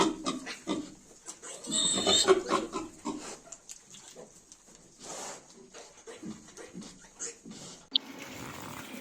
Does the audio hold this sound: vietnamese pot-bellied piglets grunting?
yes